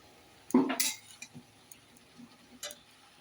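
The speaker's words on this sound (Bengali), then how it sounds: "লাউটা দিয়েছি কড়াইয়ের মধ্যে, এখন একটু নেড়ে ঢেকে দেব।" A spatula stirs bottle gourd in a wok of leftover fish-frying oil, making a short close clatter of metal strokes followed by a few quieter scattered taps.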